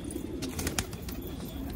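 Pigeons kept in a breeding setup alongside newly acquired birds coo and flutter close by, with a few sharper bursts of wing or movement sound.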